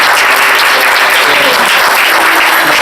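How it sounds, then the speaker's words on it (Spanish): Loud, dense applause fills the hall at a Christian youth encounter plenary on a pro-life theme, a continuous roar of many hands clapping at once, with no gaps and no voice rising above it. "Un aplauso para nuestros hermanos."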